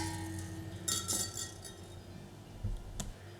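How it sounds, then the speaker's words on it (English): A spoon stirring hotdog bun dough mixture in a bowl, making light clinks and scrapes against the bowl that come in brief bursts, close and quiet. "I'm just going to kind of stir that up just a little bit"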